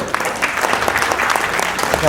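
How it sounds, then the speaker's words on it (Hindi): An audience at a family meet applauds for the matrimony service, a dense, steady wash of many hands clapping close by for about two seconds, with a few voices mixed in. "तो एक बार मुझे लगता है ताली बजने की जरूरत है।"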